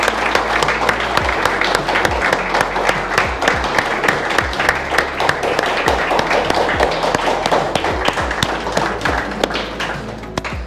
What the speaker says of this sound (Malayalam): നല്ലൊരു ക്ലാപ്പ് കൊടുക്കണം